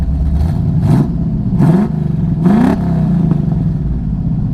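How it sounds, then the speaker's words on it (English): A 1975 Pontiac Firebird Formula 350 with a four-speed manual, idling with the clutch held down, is revved three times in quick succession, each blip rising and falling over a loud, rumbling V8 idle. "Go ahead and rev it up a little bit."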